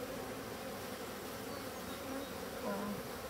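Continuous buzzing of many honey bees at an opened hive, a steady dense drone heard close up with no talking.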